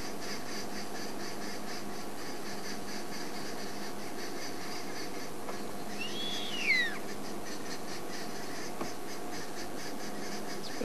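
Verreaux's eagle owl calling outdoors, a few low hoots standing out from steady ambient background and distant birdsong, with a brief louder note near the middle.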